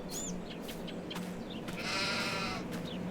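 Sheep bleat indoors inside a barn in Farming Simulator 22 on the Rennebu map, a couple of faint, drawn-out calls rising over a steady, dense background hum.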